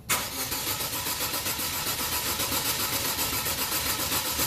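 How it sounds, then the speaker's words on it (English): A 2004 Chevy Aveo with a misfire and surging problem cranks continuously with the gas pedal floored and the injectors disabled, giving a steady loud starter whir and rhythmic engine turnover with no catch, heard up close. "smash it to the floor and crank it until I say stop"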